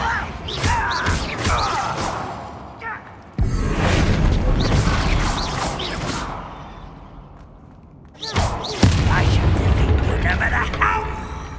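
Blasts from the Bombarda explosive spell in the wizarding game Hogwarts Legacy, heavy booming impacts arriving in bursts amid combat clatter, with voices talking over the fight.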